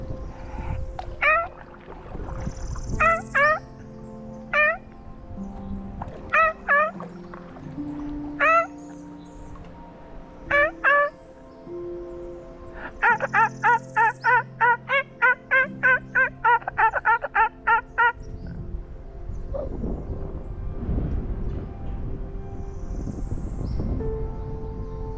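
A person on a Black River canoe trip imitates the call of an ivory-billed woodpecker: a loud, close voice repeats short nasal toots in spaced groups, then a quick run of rapid calls, with outdoor background noise after.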